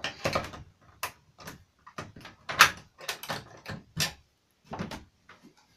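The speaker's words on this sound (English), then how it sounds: "let me just unlock this door" A shed door being unlocked and opened, with a run of close clicks, rattles and knocks from the lock and handle, followed by the door swinging open, all fairly quiet and heard alone.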